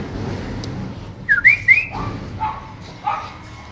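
A dog reacts to a garbage truck with a few sharp, high whining yelps and short bark-like calls, moderately close, over a low rumbling background.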